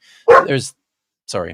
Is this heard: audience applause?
no